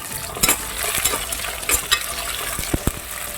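Drumsticks sautéing in a pan for sambar, a steady sizzle broken by sharp scraping stirs and clinks of a spoon against metal, close and fairly loud with no talk.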